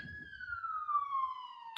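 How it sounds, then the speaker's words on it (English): A single police siren tone sweeps slowly downward in New York City, clear and fairly close, with a faint low rumble underneath at the start. "goddamn police sirens."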